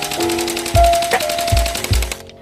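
An M4A1 gel blaster fires close by in rapid bursts, its motor whirring under a quick stream of sharp thumps, with short pauses between bursts before it stops.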